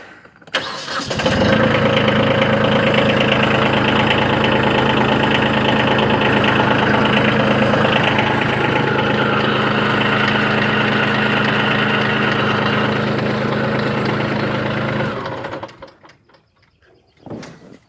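A Kubota B2301 tractor engine cranks and catches, then runs with a steady, loud, close mid-pitched drone with the PTO engaged for about fourteen seconds before cutting off abruptly, with a brief clunk afterward.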